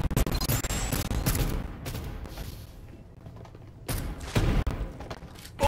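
Gunfire in the Farlight 84 battle royale video game: bursts of rapid shots and thuds come in clusters at the start and again near the end, with a quieter gap between.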